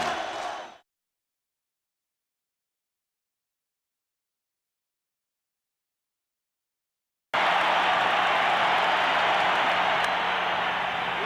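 A stadium crowd roars for the World Series champion Minnesota Twins, a loud, dense wall of cheering after a brief opening burst and long silence, sustained to the end.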